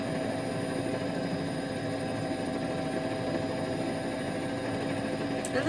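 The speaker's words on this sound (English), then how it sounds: "That chopper trying to keep up with him." A helicopter follows a rally car at a central European rally, its steady rotor and engine drone continuous and fairly distant throughout.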